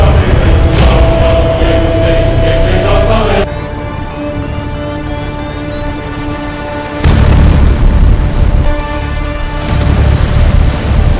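An explosion echoes during the 2015 Yemen war, loud booming blasts over a heavy low rumble, separated by a quieter stretch of ringing, droning tones before another powerful burst and rolling reverberation.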